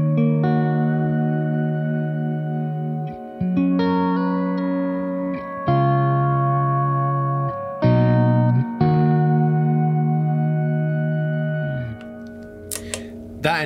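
Game Changer Audio Light Pedal producing sustained, droning guitar feedback tones that shift pitch in distinct steps, with layered ringing harmonics and a brief bright burst near the end; no talking.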